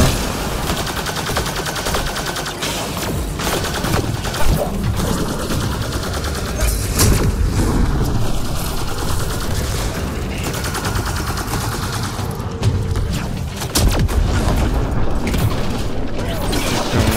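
Gunfire and combat in Mass Effect Andromeda, a steady, dense barrage of shots and mechanical clatter running the whole time with booming bursts, loud and continuous.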